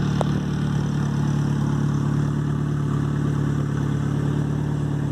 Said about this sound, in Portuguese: Tá maciando os motores.